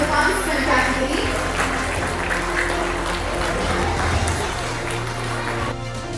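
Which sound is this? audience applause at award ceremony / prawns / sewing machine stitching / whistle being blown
audience applause at award ceremony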